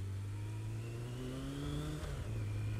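A Honda RF900R motorcycle engine warming up idles, then revs up in a smooth rising whine before dropping back to a steady idle; nearby and continuous, with no talking.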